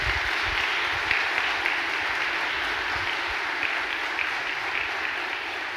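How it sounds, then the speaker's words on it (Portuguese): A church congregation claps in praise to the Lord, a thick, even wash of applause from many hands that holds steady throughout without pause. "Pode dar uma salva de palmas ao Senhor"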